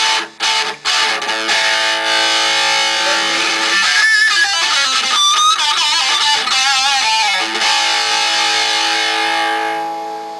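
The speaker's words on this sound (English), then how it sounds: "it's a superb distortion pedal" Electric guitar through a distortion pedal, sustained crunchy chords with some bending lead notes, loud and continuous, ringing out toward the end.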